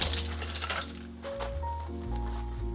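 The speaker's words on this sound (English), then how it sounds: "So we're going to throw some ice in our shaker." Ice rattles and clinks into a cocktail shaker, a quick burst of bright glassy knocks at the start that settles into a low hum, no talk.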